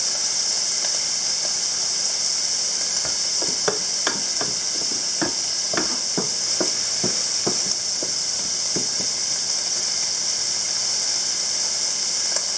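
Chopped onions sizzle steadily in a hot pan while being cooked for chili, a constant frying hiss broken by a run of scraping clicks from a spatula stirring them.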